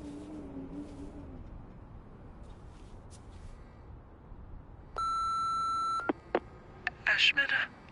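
A phone plays faint tones, then a steady voicemail beep sounds for about a second, followed by a few short electronic bleeps. Quiet talk runs in the background.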